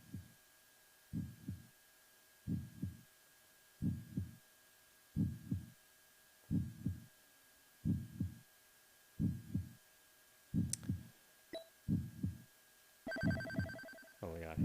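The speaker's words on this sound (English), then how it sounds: "Listen to that heartbeat." A dramatic, synthesized game heartbeat from the Darius Cozmic Collection shmup throbs in a steady, evenly spaced rhythm of deep double thumps, with brief electronic chimes and effects over the last few seconds.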